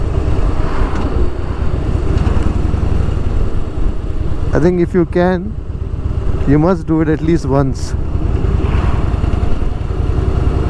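A motorcycle rides along on an open road with steady engine drone and wind buffeting the microphone throughout, while a person speaks over it in the middle.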